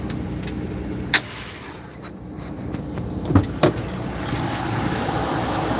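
A semi truck hooked to a trailer idles through a tug test, a steady low engine rumble with a few sharp clanks and knocks rising over it.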